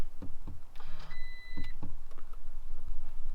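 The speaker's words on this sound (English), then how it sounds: "we're going to push the ignition button twice" A Toyota Tacoma's ignition button is pressed twice in the cab, bringing a short run of chimes and beeps with a steady tone among quiet clicks and thumps.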